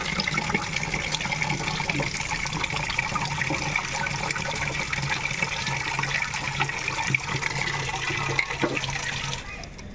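Water gushes and splashes continuously, close and fairly loud, a steady flowing rush that lasts nearly the whole time before tapering off.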